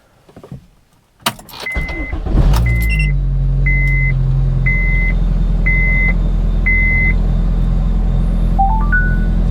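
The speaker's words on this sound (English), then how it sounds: "It's time to fire this guy up, see if it'll turn on, and take it for a drive." A supercharged Honda Civic with an R18 engine cranks and catches, then settles into a steady, loud idle, with a run of repeated short electronic chimes beeping over the running engine and a rising tone sequence at the end.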